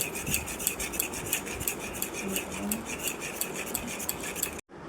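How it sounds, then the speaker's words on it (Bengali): A spoon scrapes and clinks steadily around a bowl while cake batter is stirred with sugar, a continuous close-up scraping rhythm with light metallic ticks. "এই চিনিটা দিয়ে ঘাটতে হবে। ভালো করে মিক্স করবে তোমরা কিন্তু।"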